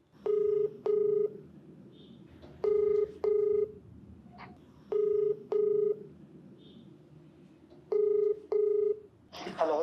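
A telephone call rings out while waiting for an answer, with paired electronic ring tones repeating at regular intervals over faint background hiss, ending in a brief click.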